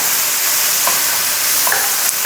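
Pork belly and sweet peppers stir-frying in a pan, giving a steady, loud sizzle with a few faint scrapes of stirring and no talking.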